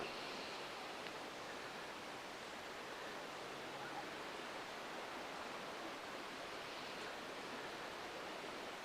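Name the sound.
beach camping spot with waves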